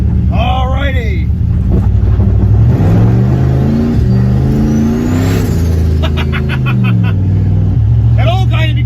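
The turbocharged LS-swapped Caravan accelerates on the road, its loud engine note climbing and falling through revs and gear changes, close and dominant, with brief voices or squeals at the start and end.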